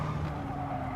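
A race car understeers through a corner in a retro racing game, with a brief, steady tire skid squeal over the engine drone.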